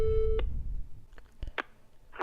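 A steady telephone line tone sounds for a moment while a call is placed back, followed by a few sharp clicks and faint line noise, with no voices.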